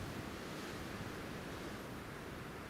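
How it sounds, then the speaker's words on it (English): Strong crosswind gusting at an airport, a steady broadband roar with no clear breaks that sounds like wind buffeting the microphone, fairly close and continuous, with no speech. "as you can hear in the background, it's a little bit windy"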